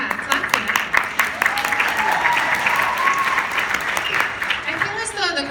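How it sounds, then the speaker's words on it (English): Theatre-convention audience applause with some cheering rolls steadily through a Broadway panel, loud and close, with voices mixed under the clapping. "clap for that"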